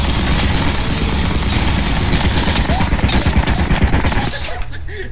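Loud, continuous rapid-fire bursts from a turret machine gun in Lethal Company, a dense stream of shots that cuts off abruptly near the end.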